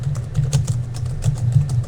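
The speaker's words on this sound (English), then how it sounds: "I'm typing it out here" Typing on a computer keyboard: a quick, uneven run of crisp key clicks, close and clear, with no talk over it.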